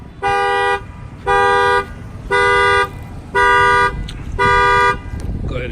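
A 2019 Ram car alarm, triggered by its shock sensor, blares in five steady, evenly spaced electronic tone bursts, each about half a second, loud and close with brief gaps between.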